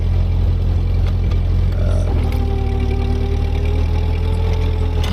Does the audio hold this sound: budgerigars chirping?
no